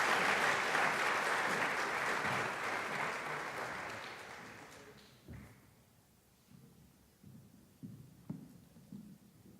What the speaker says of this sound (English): Please give him a good, warm